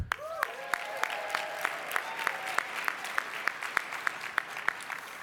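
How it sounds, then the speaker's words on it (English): Scattered, rhythmic claps from a small audience at a champagne brunch event, fairly soft and evenly spaced, with a brief whistling tone near the start. "I want to give another round of applause to our new leader"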